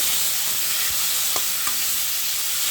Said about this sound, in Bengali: ছোট ছোট করে আলু কেটে নিয়েছি এগুলানো তেলের উপর ভেজে নেব